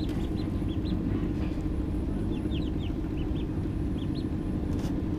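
Newly hatched American White Pekin ducklings in a homemade incubator give a scatter of short, high peeps, several in quick clusters, heard over a steady loud low hum from the machine.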